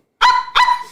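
A human voice imitates a chihuahua barking, giving two sharp, high yappy barks about a third of a second apart, close and loud with no other sound.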